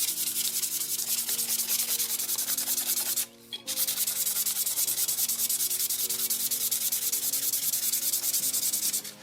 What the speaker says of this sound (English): So when I sand my tumbler, I go up and down and then I'll go back around this way.